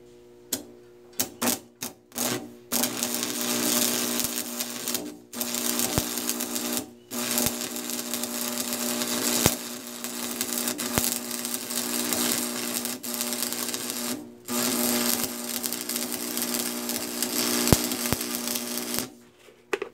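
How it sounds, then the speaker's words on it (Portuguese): Welding a small piece on a home-built articulated tractor produces bursts of crackling and buzzing with short pauses between welds, close and fairly quiet, with no speech. "Olha, eu vou dar uma soldinha aqui, só vou soldar um pedacinho aqui."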